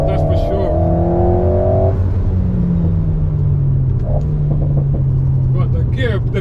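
Alpine A110 GT engine droning steadily up close, with a rising rev tone that cuts off and drops into a lower, steadier pitch at a paddle gear change, heard from inside the car under continuous sound.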